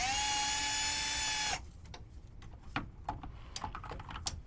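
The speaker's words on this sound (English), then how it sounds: "I'm using a drill" A high-pitched power drill whines steadily for about a second and a half during a fuel filter replacement on a 6.7 Powerstroke diesel, then stops, leaving scattered clicks and tapping.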